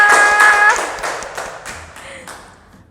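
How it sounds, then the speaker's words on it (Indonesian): A handful of people clapping hands in a quick flurry of sharp claps that trail off, set at an online children's church service. "tepuk tangan buat kita semua"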